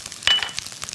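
Butter sizzling in a pan near the end of stir-frying abalone fried rice, a brief close crackle of frying with faint stirring noises.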